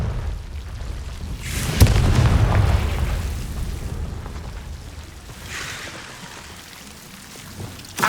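A Confringo fire spell in Hogwarts Legacy bursts with a heavy boom and crackling rumble, then a second softer blast rolls out later in a continuous noisy wash.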